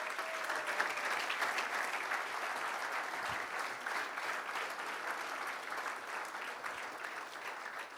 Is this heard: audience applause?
yes